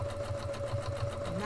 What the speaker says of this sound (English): Let's get my needle in the right place, drop that down and just start to sew.